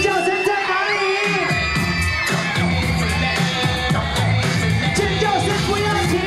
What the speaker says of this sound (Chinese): 现场的粉丝们，你的尖叫声在哪里？